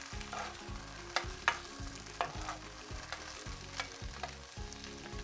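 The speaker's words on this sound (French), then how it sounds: "je vais touiller pour que toutes mes courgettes soient bien imprégnées d'huile d'olive" Courgettes fry in olive oil for a chorizo clafoutis while being stirred, a quiet steady crackle with a few spatula clicks and scrapes, over a low rhythmic hum in the background.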